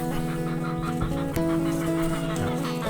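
Free-range village chickens, a breeding flock, cluck and murmur nearby in a continuous chorus at morning feeding, with occasional louder calls over a steady background hum.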